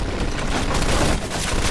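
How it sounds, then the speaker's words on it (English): Dense, continuous machine gun fire in the Mafia 2 video game, a loud sustained burst of rapid shots filling the whole stretch with no pauses and no talking. "Looks like we found the machine gun. Watch it."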